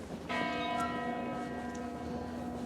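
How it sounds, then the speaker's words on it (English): A church bell in Ljubljana, Slovenia strikes and rings out with a sustained, resonant tone that slowly decays, heard from a moderate distance. "I'll keep walking and talking while the church bells ring"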